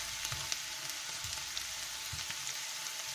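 Onion sizzles steadily in a frying pan as the first step of a zucchini and mushroom stew, a soft, even crackle with faint occasional stirring taps and no voices.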